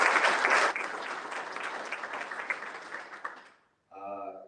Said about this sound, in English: get a round of applause for Trey Boyd